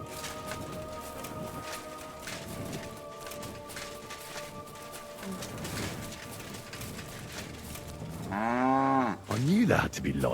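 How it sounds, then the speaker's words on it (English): Cows moo in Kingdom Come: Deliverance 2 over a soft outdoor ambience. A low, drawn-out moo builds near the end, with quieter lowing before it. "Two nicely fattened cows."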